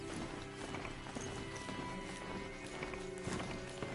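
Hooves of a horse-like mount in the video game Horizon Zero Dawn, a quick run of rhythmic clip-clop footfalls over a busy game soundscape, moderately close and fairly quiet.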